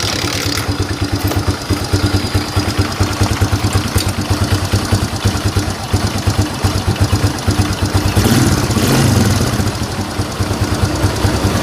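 Fury 125 motorcycle engine running after a carburetor repair kit was fitted, a loud, steady close-up putter with a rapid, even firing rhythm and a brief swell near the end, with no talking over it.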